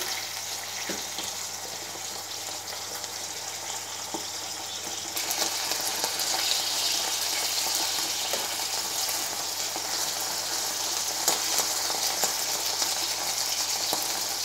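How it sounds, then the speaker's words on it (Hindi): Stuffed green chillies fry in hot oil in a pan, giving a steady hiss and crackle that grows louder partway through and then holds, close up, with no talking. "ताकि दूसरी तरफ से भी मिर्चें जो हैं वो अच्छे से फ्राई हो जाए"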